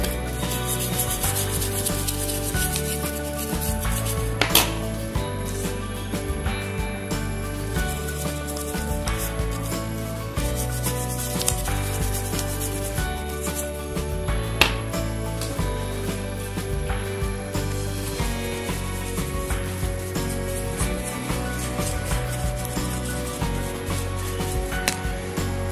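Steady scrubbing of a DTH satellite TV card being cleaned with petrol or thinner, a continuous close rubbing texture with a few sharper scrapes, running throughout with no voices.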